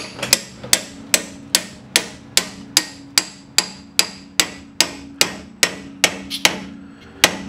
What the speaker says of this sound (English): and hammer it in so we can get some leverage.